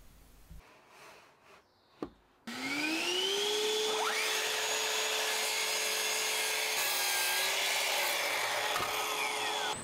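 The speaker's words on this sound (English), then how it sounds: "set up some stops on the mitre saw and start getting the parts cut" A few faint knocks, then a Bosch mitre saw whirs up loudly and runs steadily, its pitch dipping as it cuts through wood, close and continuous.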